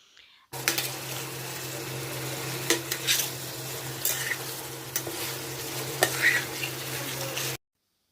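Prawns sautéing with spices in a pan, for a chingri malai curry, make a close, steady sizzle broken by sharp metallic clinks and scrapes of a spoon stirring against the pan.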